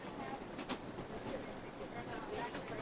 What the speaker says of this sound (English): journey took over 40 hours by train.